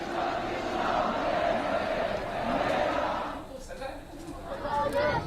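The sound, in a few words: crowd of Hindus singing bhajans in protest in Bangladesh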